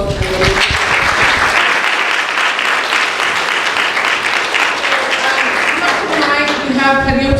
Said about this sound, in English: So let's give our guests a round of applause.